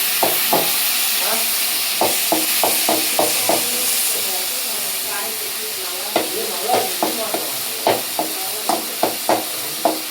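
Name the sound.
stirring tomatoes and onions in pan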